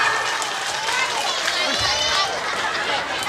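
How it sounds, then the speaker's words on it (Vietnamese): Audience applause and crowd noise after a dance performance at a village festival, heard as a steady dense wash of clapping with voices mixed in throughout. "Xin một tràng pháo tay thật lớn cho cô Kiều Vân được không ạ?"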